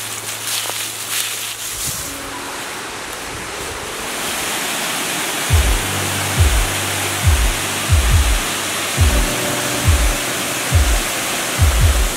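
A waterfall in Alabama roars as a constant broad rush of falling water, loud and steady throughout, while low wind thumps buffet the microphone in irregular bursts during the second half.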